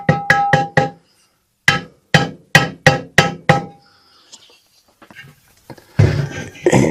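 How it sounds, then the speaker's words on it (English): The back of a hammer taps a sleeve into a locked-up Kawasaki engine: a quick run of sharp metallic knocks, a pause, then a steadier series of evenly spaced strikes, followed by faint clinks and handling noise. "I got the back side of a hammer here"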